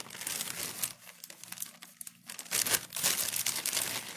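Packaging being unwrapped from a spool of 22 gauge wire, close crinkling and crumpling of plastic in irregular bursts, with a brief quieter pause in the middle before it picks up again.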